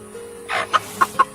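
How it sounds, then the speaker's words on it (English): Silkie chickens, including a splash bearded Silkie rooster, let out a soft cluck followed by three short, clipped clucks in quick succession, close and clear against a quiet background. "This is a Splash bearded Silkie, but that is a rooster"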